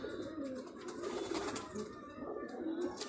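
Ferozpuri flying pigeons coo softly in a loft, a faint, continuous layered murmur of several birds at low level, with no clear talk over it.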